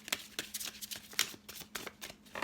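Oracle cards are shuffled by hand, a run of quick riffling bursts with short pauses between them, close and moderately soft, with no talking.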